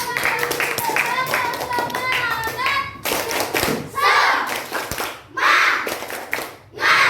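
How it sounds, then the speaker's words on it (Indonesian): Children in a classroom clap their hands together in rhythmic bursts with thumps and taps, while a teacher and kids sing and talk over the claps, louder clapping coming in separate rounds near the end. "tepuk tangan"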